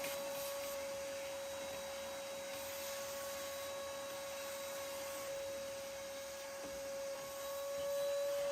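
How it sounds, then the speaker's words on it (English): A vacuum cleaner runs steadily and close while cleaning out the base of an old wooden dresser being stripped for restoration, a constant high whine with a slight dip in loudness near the end. "I focused on vacuuming out the base and cleaning it."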